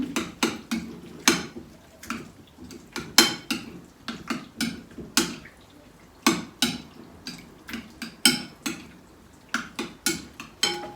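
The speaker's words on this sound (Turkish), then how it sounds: "Mayonezimi de ekledim. Karıştırıyorum." A utensil stirring mayonnaise into a meze in a bowl, giving a run of repeated clinks and scrapes against the bowl in an uneven rhythm, close and distinct.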